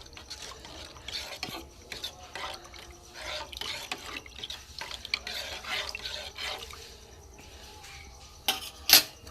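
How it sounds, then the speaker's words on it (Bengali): Egg yolk tea heats in a pot on a gas stove and starts to boil, giving a soft, irregular bubbling and hiss, capped by a sharp clink near the end. "ফুটতে আরম্ভ করেছে বন্ধুরা"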